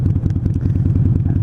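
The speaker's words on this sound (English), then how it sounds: "the wind is so loud in this helmet" Steady, loud low roar of wind buffeting a motorcycle helmet while riding without earplugs, with engine drone mixed in and no break throughout.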